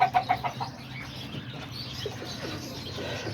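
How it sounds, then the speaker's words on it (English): Homing pigeons coo softly in their loft, a few quick calls at the start and then quieter scattered bird sounds over a low background hum. "There's all the pigeons."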